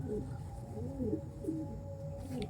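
Several white pigeons coo steadily in low, rolling phrases that overlap throughout, close by, with a faint background hum and no talking.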